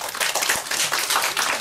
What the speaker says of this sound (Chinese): 那我们就再次掌声欢迎朱佑勋